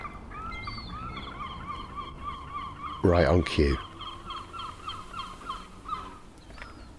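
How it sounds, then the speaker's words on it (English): Seagull squawking calls from a house roof repeat through the scene, with a loud burst of harsh calls in the middle over steady background bird chatter. "the seagulls are still calling"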